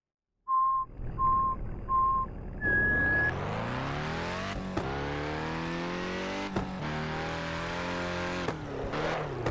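A Lancia Delta's engine in the racing game Classic Racers, preceded by three short countdown beeps and a higher start tone, then the engine note climbs steadily and holds as the car accelerates and drives on, loud and close.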